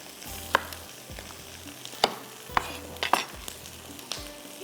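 Onions and tomatoes fry in a pan for a masala, giving a low steady sizzle. A utensil scrapes and clacks against the pan every second or so while the mix is stirred.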